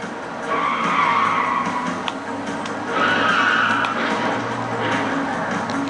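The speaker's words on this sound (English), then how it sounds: "there's also bomb cars they have to chase after and ram the heck out of until they blow up" Cars skid and squeal with tires screeching in Die Hard Trilogy, a PS1 driving level where a car chases and rams a bomb car; two long loud screeches with engine drone underneath and no talking.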